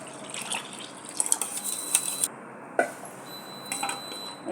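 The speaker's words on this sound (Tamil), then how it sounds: "இப்போ நம்ம தேவையான தண்ணி சேர்த்துக்கலாம்" Water poured into a bowl of churned curd mixture for mor kulambu, a soft splashing, trickling pour with brief drips, close and fairly quiet, with a short pause partway through.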